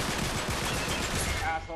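Rapid automatic gunfire from an Uncharted 3 co-op firefight rattles in a dense, loud burst of repeated shots that trails off near the end.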